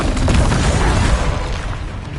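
A Confringo blasting spell explodes in Hogwarts Legacy with a loud, booming burst that rumbles heavily, then slowly fades over a couple of seconds.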